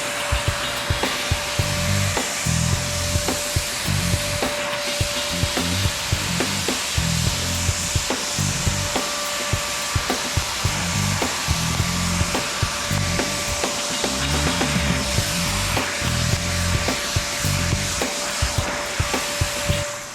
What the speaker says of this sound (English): now I'm gonna vacuum this dust off of it.